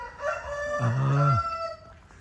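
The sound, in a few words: fighting rooster crowing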